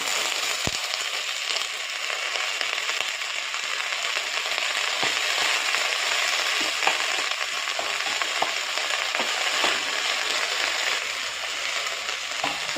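Neem leaves dry-fry in an oil-free pan, giving a soft continuous crackling hiss with scattered small pops and stirring clicks at close range.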